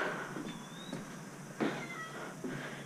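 A domestic cat meows softly several times at a short distance, thin drawn-out cries spaced across a few seconds over faint outdoor background noise, with no talking.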